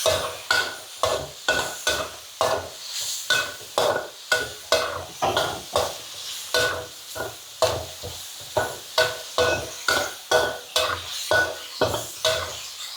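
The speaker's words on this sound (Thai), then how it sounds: "ผัดไม่นานนะคะ แป๊บเดียวก็สุกแล้วค่ะ" Sun-dried pork stir-fried over high heat in a pan, a spatula scraping and tossing in a steady repeating rhythm, each stroke bringing a burst of close sizzling with metal clinks.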